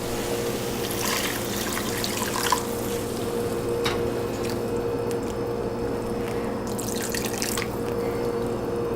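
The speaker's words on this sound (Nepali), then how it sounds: "अब म यसमा पानी राखिदिन्छु।" Water pours into a pot of vegetables for Nepali-style egg thukpa, a steady liquid splashing and trickle over a constant low hum of the cooking setting.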